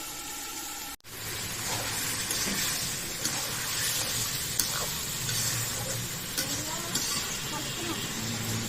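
Cauliflower and small puti fish fry in a covered pan, giving a steady, close sizzle and crackle that runs throughout with a brief break near the start.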